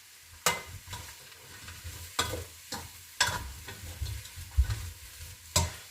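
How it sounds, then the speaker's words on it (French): A spoon stirs onions and leeks frying in a pan for minestrone, with a soft steady sizzle under repeated scraping knocks against the pan, close and alone. "en mélangeant avec une cuillère ou une petite spatule jusqu'à ce que les oignons et les poireaux deviennent un petit peu"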